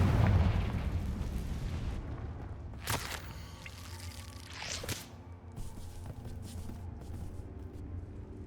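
Confringo blasting spells explode in the Hogwarts Legacy video game: two sharp, bright bursts a couple of seconds apart over a dense, rumbling background.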